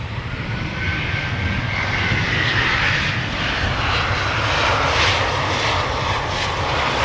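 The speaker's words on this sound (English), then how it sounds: "Air Arabia arriving from Nador" An Air Arabia airliner arriving at Amsterdam Schiphol from Nador roars steadily overhead, a loud, continuous engine rumble and whine that swells slightly and holds for several seconds with no voices.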